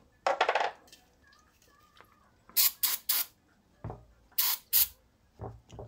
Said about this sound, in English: Brake cleaner, where's that?